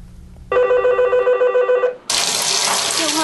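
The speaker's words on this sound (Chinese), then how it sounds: "噪声、水龙头的滴水声" Indoors, a ringing telephone trills for about a second and a half, then a tap runs with a steady rush of water.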